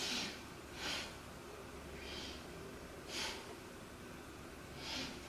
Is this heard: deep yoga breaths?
yes